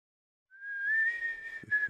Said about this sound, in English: would you mind not whistling?